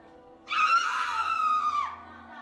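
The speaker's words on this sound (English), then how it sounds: "she screams as if the object burns her to the core" A woman's scream in a scary horror scene, one long, loud, sustained shriek lasting about two seconds, rising sharply and then trailing off, with no talk over it.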